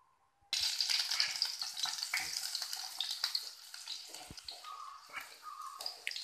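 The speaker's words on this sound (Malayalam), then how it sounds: "അപ്പോൾ അതുകൊണ്ട് തന്നെ ഉള്ളി നന്നായിട്ട് ഫ്രൈ ആവണം." Onions fry in hot oil in a frying pan for a chicken chilli thoran, a loud, close sizzle that starts abruptly and crackles continuously.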